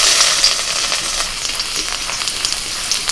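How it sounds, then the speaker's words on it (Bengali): Chopped garlic and ginger sizzle steadily in a little hot white oil in a wok, a dense, close frying hiss running throughout with slight stirring variations, no voices. "আবারও কড়াইতে আমি অল্প সাদা তেল দিয়ে দিয়েছি, আর তেলের মধ্যে দিয়ে দিচ্ছি রসুন কুচি আর আদা কুচি"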